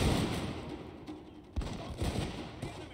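Arquebus volley fire in a samurai battle video game, arquebusiers against Chosokabe daikyu archers, with a dense rumbling crackle of overlapping shots followed by sharp bursts at around 1.6 and 2 seconds, moderately loud.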